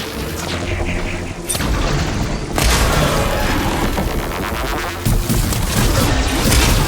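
A detonation in the video game Horizon Forbidden West, a loud sustained blast with crashing, rumbling debris and a second surge of booming impacts.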